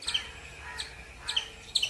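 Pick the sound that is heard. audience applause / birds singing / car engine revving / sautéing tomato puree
birds singing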